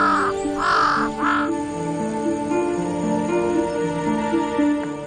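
A crow on Yakushima island caws loudly and close by, three harsh calls in a row at the start, over a sustained tonal background with no voices.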